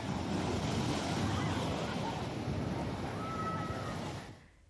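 High-tide waves of the Arabian Sea surging at Gomti Ghat in Dwarka amid strong currents, a dense continuous roar of surf with wind buffeting the microphone, then cutting off abruptly near the end.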